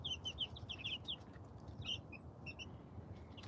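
Bantam chicks on their first day outdoors give a quick cluster of faint high peeps, then a few more scattered peeps, over a low steady background rumble.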